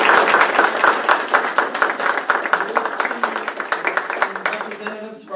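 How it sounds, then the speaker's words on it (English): An audience applauds at a university transfer agreement event, with dense, close clapping that starts strong and thins out gradually over several seconds. "you all deserve a big round of applause"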